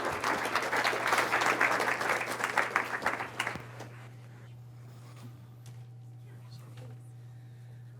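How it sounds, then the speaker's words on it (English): Audience at an Indigenous education speaker event clapping, dense applause for about three seconds that quickly dies away, leaving a low steady hum and faint room murmur. "So I'll just have another round of applause for Sean and Joe."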